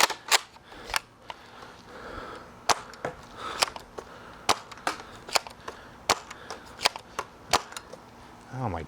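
A Nerf Elite 2.0 Flip-8 blaster fires Elite darts in a string of sharp, fairly quiet clicks and snaps spaced about half a second apart, with faint background noise between shots.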